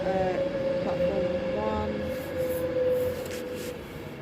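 An eleven-carriage train rolls into a station platform with a steady mechanical hum and tonal whine, close and continuous, with some faint voices in the background.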